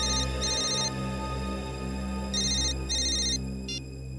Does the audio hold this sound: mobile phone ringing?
yes